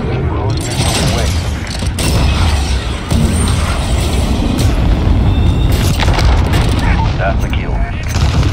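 Missile and rocket blasts in Call of Duty Modern Warfare (2019) multiplayer on the Shipment map: loud, continuous booming explosions and rumbling detonations mixed with gunfire and mechanical clatter, filling the whole stretch.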